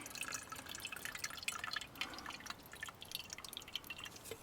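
Water is poured into a Kelly Kettle Trekker camp kettle outdoors, giving soft, irregular splashes and drips that are faint and close by.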